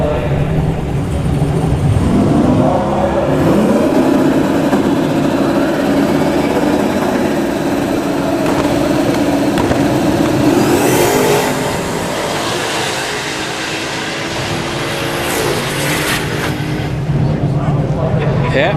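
Drag racing cars, one of them an SN95 Mustang, roar continuously down the strip at a Florida motorsports park, a loud sustained engine drone that eases slightly midway while an announcer talks over it.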